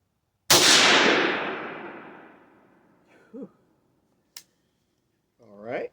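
A single sharp gunshot from an NEF .22 Hornet Handi Rifle, loud and close with a long decaying echo, followed by a few faint clicks and a short voice.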